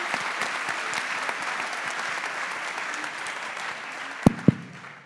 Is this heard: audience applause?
yes